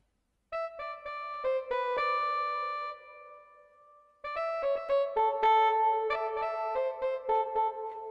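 Soft alto saxophone voice from the Purity plugin playing a closing phrase in an Afrobeats beat remake: a few short staccato notes, a held tone that fades, then a livelier run of notes, clear and close with no talking.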